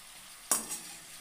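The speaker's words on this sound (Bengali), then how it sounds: "উল্টে দিই, এক পিস করে হয়ে গেছে ভাজা।" Slices of one large potato hit a hot frying pan as they are flipped, giving a single sharp burst of sizzle that quickly fades to a faint, steady hiss.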